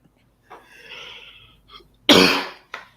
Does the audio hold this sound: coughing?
yes